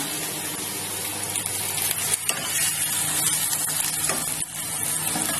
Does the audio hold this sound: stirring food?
yes